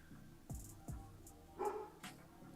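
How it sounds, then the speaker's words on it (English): A few soft barks from a dog some distance away, spaced irregularly, faint against a quiet background. "The dog's barking."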